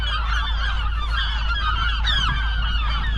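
A flock of seabirds on Alcatraz Island calls continuously, overlapping honking cries rising and falling nearby over a low steady rumble of wind.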